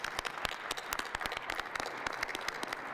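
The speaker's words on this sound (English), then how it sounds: "Let's give them all a round of applause." Audience applause at a New York governor's briefing on the Penn Station replacement, a steady patter of many hands clapping at moderate distance, fairly faint, with no talk over it.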